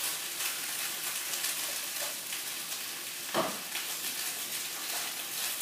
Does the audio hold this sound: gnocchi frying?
yes